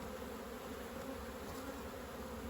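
Honey bees swarm over the frames of an opened beehive, a dense, continuous buzzing hum, close and steady without pause.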